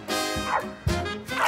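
A dog in a muzzle barks in a few sharp, close bow-wows with short whines between them, loud in an indoor setting.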